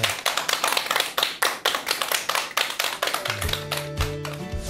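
Audience applause at the start of a lecture by a Seoul medical school professor emeritus: dense, steady clapping from a crowd, fairly close, with a tonal musical sting entering near the end.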